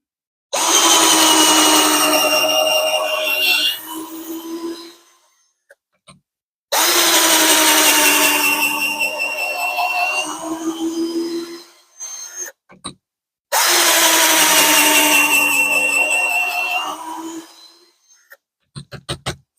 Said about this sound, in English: Okay, just a few seconds of repetitive drilling.